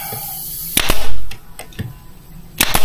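Pneumatic nail gun driving nails into a wooden workbench in a laser engraving shop: two sharp close bangs near the start and another pair near the end, with fainter knocks between over a steady compressor-like hum.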